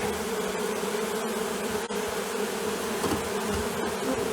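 Honey bees swarming into a mesh-floored box holding their queen during a chimney extraction in Nantwich, a dense, steady buzzing hum close by, continuous with no talk.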